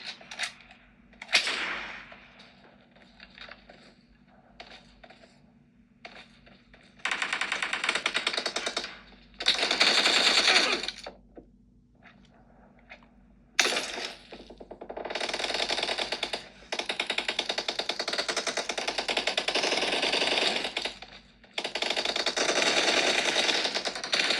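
Bursts of automatic gunfire from the PUBG battle royale game played on a Mi 11 Lite phone, coming in several loud sustained volleys separated by quieter gaps, with no talking.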